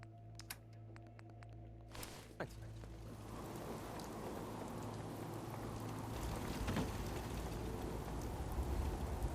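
Heavy rain pours in Fallout 4, a dense hiss of falling drops that builds steadily and grows louder toward the end, with a few sharp clicks early on.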